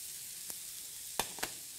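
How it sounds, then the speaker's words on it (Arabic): About 200 grams of meat fries with thinly sliced onions in a pan for a Turkish-style aubergine dish. The soft, continuous sizzling hiss is broken by a few sharp clicks, quiet and close. "ونقلي هذا اللحم مع البصل هكذا بهذه الطريقه هكذا"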